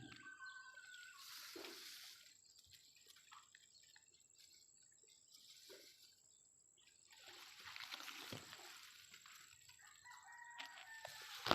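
A hen clucks and calls intermittently outdoors, fairly faint, with dripping water and rain-soaked ambience around it and no talking.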